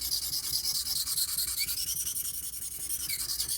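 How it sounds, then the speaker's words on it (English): A knife blade being scrubbed back and forth on a sharpening stone while it is rotated, a close, rhythmic gritty rasping in quick regular strokes with no talking. "All I'm doing is rotating the knife as I scrub."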